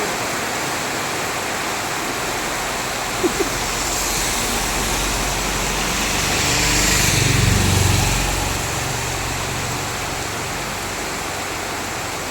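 Heavy rain falls as a dense, constant hiss without pause, swelling a little louder for a few seconds past the middle and easing back, with no clear speech.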